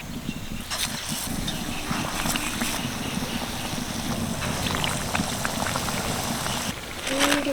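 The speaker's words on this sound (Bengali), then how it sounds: "তো চলুন বাকিগুলোও একইভাবে ভেজে নিই" Round cauliflower chops (fulkopir chop) deep-frying in hot oil, a continuous bubbling sizzle with occasional louder crackles, steady and fairly close throughout.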